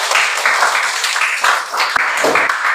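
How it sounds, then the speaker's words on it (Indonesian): A classroom group bursts into clapping, a short, close, fairly loud flurry of hand claps with brief surges and no voices over it. "Tepuk tangan"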